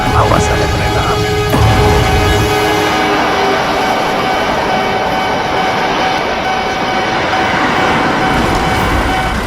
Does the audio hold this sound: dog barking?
no